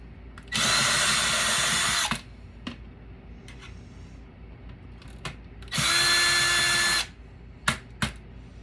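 Two bursts of a power screwdriver fitted with an extension Phillips bit, running on screws inside a Dell OptiPlex computer, each a steady whir of about one and a half seconds, close and loud, with light clicks of handling between.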